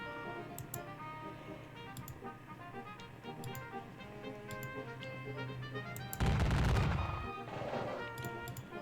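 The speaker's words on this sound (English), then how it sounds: "we're just exchanging gunfire" Distant exchanges of musket fire in a Gettysburg war game, faint scattered pops and ticks with a louder burst of volley fire near the end.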